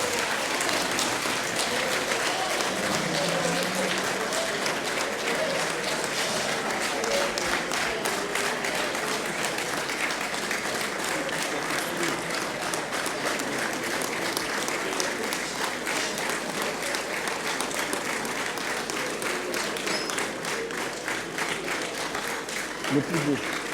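Steady, dense audience applause rolls on unbroken through a parchment presentation ceremony for the Portuguese president, with scattered voices mixed into the clapping.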